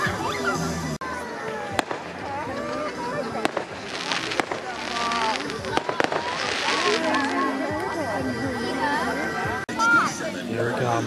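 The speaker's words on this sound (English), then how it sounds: "Fireworks, yay!" Canada Day fireworks burst in sharp cracks and booms at irregular intervals, some with crackling trails, while a crowd chatters and cheers nearby.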